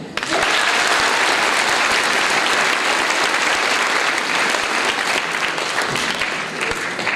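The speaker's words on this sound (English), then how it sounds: "If you do, I want to hear a clap." Loud, sustained clapping from a full audience at an event with Senator Melissa Hurtado, beginning abruptly and holding strong for several seconds before easing slightly near the end.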